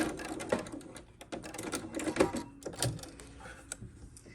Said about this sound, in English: I'm going to backstitch to secure this end, and then I'm going to sew off.